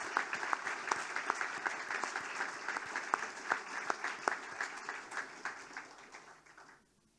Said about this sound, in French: Serrez-vous un peu pour la photo et les applaudissements.